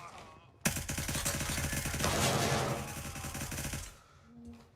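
A long, rapid automatic burst emptying a full magazine in the tactical shooter Gray Zone Warfare, loud and close with steady rattling shots for about three seconds, then tapering off into quiet.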